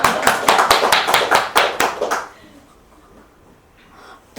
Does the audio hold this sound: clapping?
yes